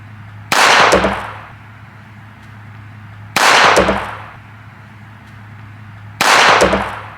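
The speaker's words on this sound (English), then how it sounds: "going to see if a 22 will puncture a fire extinguisher" Three sharp, loud .22 revolver shots from a Charter Arms handgun strike a fire extinguisher, spaced about three seconds apart, each crack trailing into a brief hissing decay over a steady low hum.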